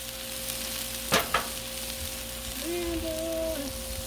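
Chicken fried rice with veggies and chopped onion sizzles steadily on a Blackstone griddle, a constant close frying hiss broken by a couple of sharp spatula scrapes, with a faint tonal whine partway through.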